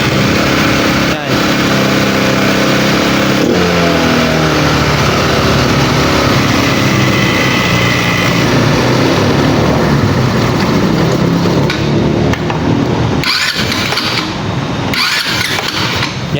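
A carbureted motorcycle engine runs close and loud with an unstable idle, its rough putter wavering and dipping near the end while someone speaks over it.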